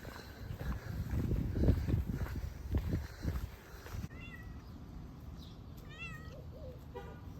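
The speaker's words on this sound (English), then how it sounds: "Hey, kitty cat." A cat meows a few times, fairly close, after a stretch of low rumbling outdoor noise; the short rising and falling cries are clearly separated, with no talking over them.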